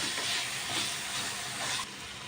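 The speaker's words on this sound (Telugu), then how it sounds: "ఇవన్నీ కొంచెం ఫ్రై చేసుకోవాలి." Thinly cut carrot and potato frying in a pan for soya mint pulao, a steady, fairly loud hiss and sizzle that continues evenly and drops off slightly near the end.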